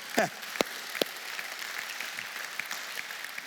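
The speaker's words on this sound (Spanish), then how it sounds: "Podemos darle un fuerte aplauso al Señor" Church congregation applauding the Lord after a sermon: a few sharp claps stand out at first, then a steady spread of lighter clapping continues through.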